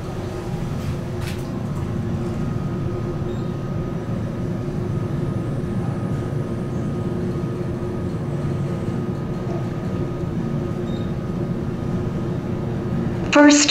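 A Fujitec traction elevator car travels downward with a steady low hum and rumble throughout, ending in a short chime or beep as it arrives.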